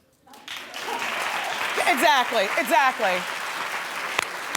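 Studio audience applause on a daytime talk show, steady clapping from a crowd with a person talking over it, then fading.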